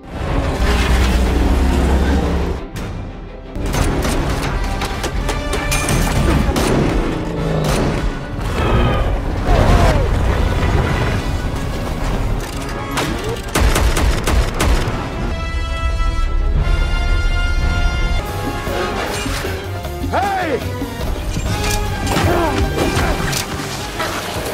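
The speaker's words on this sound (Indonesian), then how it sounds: "Kejar-kejaran dan tembak-tembakan itu berlangsung sangat lama" Loud, dense action-film chase sequence with a continuous roar of crashes, impacts and bursts of gunfire over a dramatic score, heavy and unbroken except for a brief dip early on.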